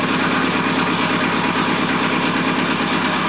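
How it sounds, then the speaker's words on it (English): A Mercedes W123 230 engine runs at a steady idle with a constant, loud mechanical drone and faint vibration, close by and with no talking. "start her up and see what that disgraceful noise was"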